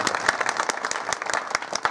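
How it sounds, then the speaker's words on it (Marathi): A small gathering at a devotional singing event claps for a children's cymbal group, a short burst of fairly sparse, distinct hand claps. "या बाल गोपालांकरता एकदा जोरदार टाळी वाजवा"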